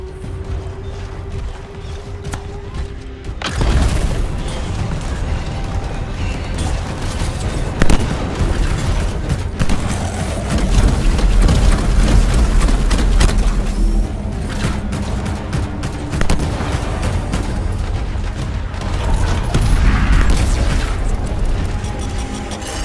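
Explosions from destroying Scar stockpiles in Anthem: a loud, continuous roar of blasts and rumbling booms fills the scene after a quieter opening, with dense crackling debris and occasional sharper bursts throughout.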